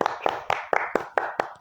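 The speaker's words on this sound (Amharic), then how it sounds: "ለ9 ሰው ነው አሁን ጭብጨባ" Seven sharp claps in a steady rhythm, close and fairly loud, with no talk over them: applause for nine new subscribers.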